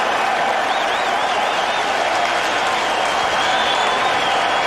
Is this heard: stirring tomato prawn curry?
no